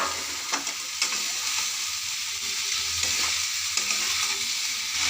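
Ingredients for a Bengali shrimp and Malabar spinach chorchori are poured into a hot pan and stirred, a steady close sizzle of frying with occasional scraping and clinks of the spoon, no talking.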